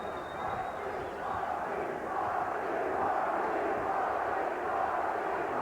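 A boxing arena crowd at the Michael Nunn vs. Iran Barkley middleweight title fight cheers for Barkley, a broad sustained roar that swells slightly and stays dense and loud throughout.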